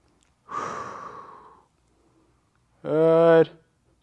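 Heavy breathing during a stick mobility recovery workout: one long, breathy exhale that fades over about a second, a short pause, then a brief voiced sigh-like breath.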